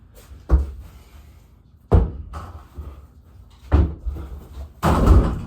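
A door that will not close all the way is pushed repeatedly, giving four loud, close thuds and rattles spaced a second or two apart, with quiet gaps between.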